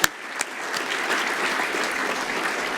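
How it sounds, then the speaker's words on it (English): An audience at the 2016 John Eales Medal rugby awards ceremony applauds Qantas, breaking into steady, full clapping after a couple of sharp opening claps and sustaining it evenly. "we should give Qantas a round of applause for that ongoing support and loyalty"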